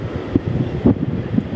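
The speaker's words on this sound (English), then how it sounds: "as the wind picks up." Gusty wind buffeting the microphone outdoors at Lihue Airport (LIH) in Hawaii, a steady low rumble that swells briefly about a third of the way in, with no talk.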